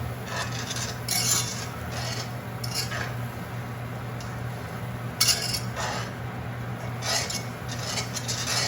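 Curry roux blocks being stirred into a pot of mac and cheese, with scattered light metallic clinks and scrapes of a utensil against the pot, quiet and alone over a low steady hum.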